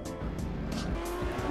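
Game car engine from Grand Theft Auto: San Andreas revs steadily with brief tire squeals and skidding, loud and continuous throughout, with no talk.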